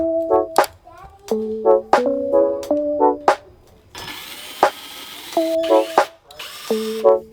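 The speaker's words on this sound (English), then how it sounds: "I used some pocket screws to fasten each shelf" A power drill drives pocket screws into a shelf for a budget DIY entryway closet. Several short whining bursts rise in pitch, then a longer grinding run follows, all loud and close.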